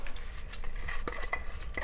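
Soaked mung beans are rubbed by hand in a bowl to slough off their skins. The result is a continuous wet gritty scrubbing and rattling of beans against the bowl, close and fairly quiet, with no talking over it.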